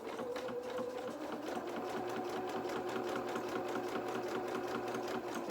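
A domestic sewing machine runs continuously, zigzag stitching across a fabric seam on a doll's dress, a steady rapid mechanical whirr with rhythmic needle clatter, close and even throughout.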